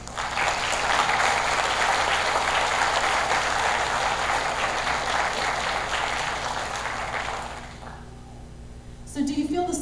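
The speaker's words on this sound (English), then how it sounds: "big round of applause" An audience claps and cheers steadily for about eight seconds before the applause fades and a voice begins speaking.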